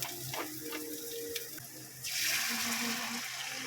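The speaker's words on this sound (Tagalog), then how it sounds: "At nilagyan nyo din ng tubig para sa lomi." Water poured into a cooking pan while preparing lomi, a sudden rushing splash starting midway and continuing steadily, close and fairly loud after some quieter kitchen clatter.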